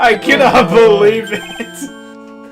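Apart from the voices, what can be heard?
mobile phone ringtone ringing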